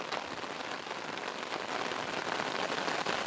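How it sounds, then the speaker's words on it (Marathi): Continuous rainfall pattering on nearby surfaces in a Konkan village, an even broadband hiss with occasional sharper drops, growing slightly heavier, no talking. "पावसाला सुरुवात पण झाली आहे"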